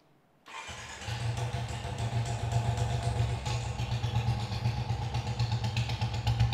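A vintage Royal Enfield Bullet motorcycle starts abruptly after near silence, then settles into a loud, close idle with a steady low rhythmic thump and mechanical clatter throughout.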